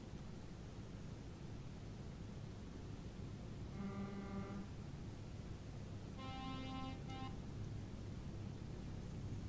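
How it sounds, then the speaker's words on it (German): Two faint horn blasts from a vehicle in a convoy sound over steady road and engine noise, the first shorter and lower, the second brighter and longer. "Ja, ich höre es."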